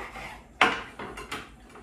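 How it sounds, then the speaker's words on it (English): A knife cuts a blood orange crossways into rounds on a board, giving a sharp first chop followed by a few lighter, evenly spaced cuts, close and clear with no talk. "take your blood orange, slice it crossways so that you have nice rounds"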